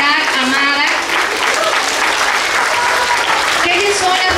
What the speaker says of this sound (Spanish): Les pido un aplauso para Guadalupe Hernández